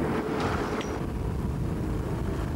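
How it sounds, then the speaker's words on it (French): Strong gusting wind beside a lake roars steadily and close into the microphone, a continuous broadband rush with no speech. "ça peut venir à 70-80 km/h, comme le vent là"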